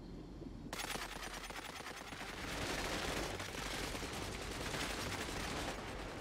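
Sustained automatic gunfire in the sci-fi strategy game Cepheus Protocol, a dense, continuous rattle of rapid shots that starts abruptly and swells louder midway, with no voices over it.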